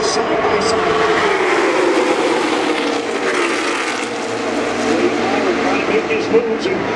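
Stock cars running side by side at Daytona International Speedway roar past in a continuous engine drone that swells and fades, loud and sustained throughout.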